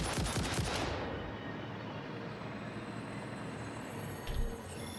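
Rapid, sustained gunfire from a weapon in the video game Satisfactory, dense bursts that cut off after about a second and give way to a steady mechanical rumble with a brief thump near the end.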